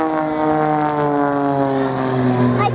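An Extra 300 aerobatic propeller plane engine drones loudly and steadily with a rich harmonic hum during an air display, pitch sliding slightly downward as it passes.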